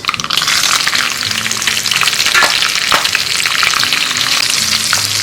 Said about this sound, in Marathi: आपली मोहरी इथे तडतडली आहे आता मी ह्याच्यात घालायला घेतले दोन मिरच्यांचे तुकडे आणि कढीपत्ता